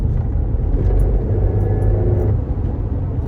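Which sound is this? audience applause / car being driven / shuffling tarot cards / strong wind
car being driven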